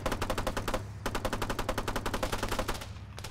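Rapid carbine fire in the ArmA military shooter game, two long automatic bursts of evenly spaced shots, loud and near, with a brief pause between them and no talking.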